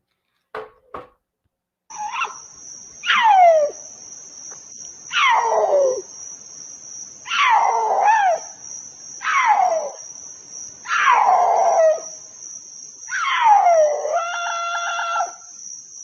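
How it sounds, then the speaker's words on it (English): A mountain lion calls at night: six loud, scream-like cries, each sliding downward, repeated every second or two over a steady high chirring of crickets, with two short clicks before the first cry. "This is a mountain lion, or this is a puma cat calling at night."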